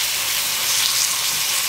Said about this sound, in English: We're going to fry this.